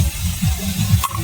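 Potato pieces fry in oil until red and crispy, giving a close, loud sizzling hiss with low bubbling rumbles and a brief sharper clink near the end.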